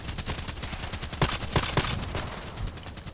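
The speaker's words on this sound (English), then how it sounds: "So that's the difference using a sniper gun or using the EBR" An EBR rifle in a shooter video game fires a rapid string of sharp, evenly paced shots, loud and close, with a few stronger cracks in the middle of the burst.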